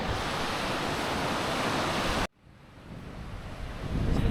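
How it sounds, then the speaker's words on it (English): Strong wind buffets the microphone over ocean surf on a cold beach at Marion Bay, a loud continuous roar that cuts out abruptly midway, then builds back up gradually. "it's so bloody windy and cold"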